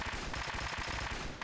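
Automated gun turrets in the Fallout game fire in a rapid, continuous rattle of close, loud shots.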